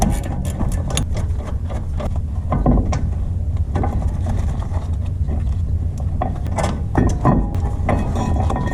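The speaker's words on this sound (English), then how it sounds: "once I've got those two bolts loose, this whole caliper carrier can come off" Ratchet wrench loosening the brake caliper carrier bolts on a 2015 Suzuki Jimny, giving rapid, uneven runs of close metallic clicks over a low mechanical background.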